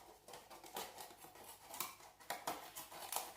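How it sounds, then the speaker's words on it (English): Scissors snip through a thin plastic milk carton in a quick irregular series of crisp cuts, close and fairly quiet, with no talking. "Just literally get your scissors"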